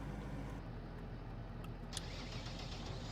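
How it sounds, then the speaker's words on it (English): A tractor engine in Farming Simulator 19 runs at a steady low idle, a faint continuous mechanical drone with a slight shift in tone partway through. "Definitely different engine sound."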